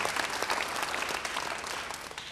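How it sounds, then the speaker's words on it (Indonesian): A church congregation applauds warmly during an Indonesian service, a dense, bright wash of many hands clapping steadily and fairly close, with no voices on top. "Beri tepuk tangan yang baik buat dia."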